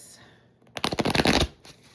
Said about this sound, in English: I'm going to shuffle this one mas.